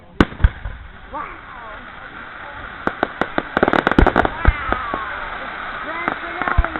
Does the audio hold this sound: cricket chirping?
no